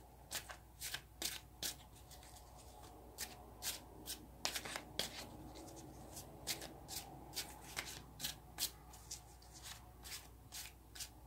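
A deck of tarot cards being shuffled by hand, a steady run of crisp riffling bursts and flutters close by, repeating in quick irregular waves with no voices.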